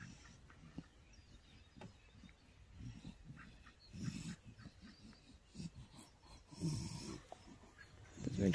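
A dog with breathing problems snorts and snuffles in a quiet room, a faint, irregular series of wet nasal huffs and rasping breaths with a louder burst near the end.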